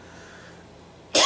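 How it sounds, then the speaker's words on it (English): A single sharp cough bursts out loudly near the end after a second of quiet room hiss, close to the mic and alone. "Sorry if I coughed through this whole thing."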